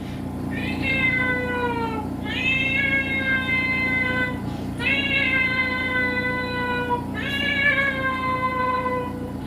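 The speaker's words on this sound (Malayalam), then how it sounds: "പിന്നീട് ഒരു റേസ് കാണാൻ പോകുമ്പോൾ മതിലെ ഒരു പൂച്ച." A cat on a wall meows repeatedly in long, drawn-out, wavering cries, four calls in steady succession over a constant low background hum.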